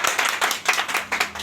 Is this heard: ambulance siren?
no